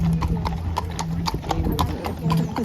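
Horse hooves clip-clop on a London street in a quick, steady rhythm of sharp clacks, close and loud, with people talking in the background.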